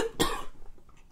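A single sharp cough from someone with a sore throat, close and abrupt, followed by quiet room tone.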